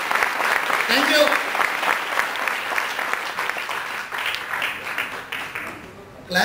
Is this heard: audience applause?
yes